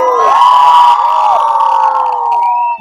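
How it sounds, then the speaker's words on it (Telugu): A wedding sangeet crowd in Bengaluru cheers loudly, with shrill whistles ringing out over the noisy, close crowd. "గట్టిగా చప్పట్లో విజిల్ వేయండి చూద్దాము."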